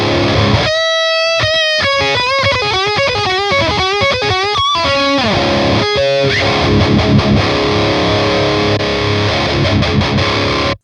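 Electric guitar through an ENGL Ironball lunchbox amp with the gain boost engaged plays distorted, saturated notes, loud and close, moving from ringing single notes into heavy chugging chords.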